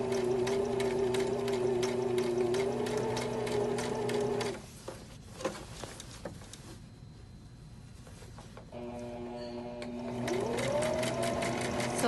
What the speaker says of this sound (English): I'm giving it a zigzag stitch around it.